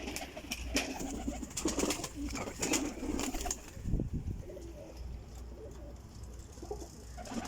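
Pigeons in a breeder's loft coo with low rolling calls, busier at first with clicks and a brief wing flutter, then quieter over steady background hum.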